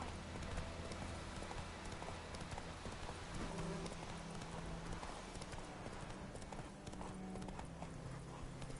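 The horse Roach gallops in The Witcher 3, hooves pounding in a fast, continuous rhythmic clip-clop over steady ambient game noise, with a faint whinny possible.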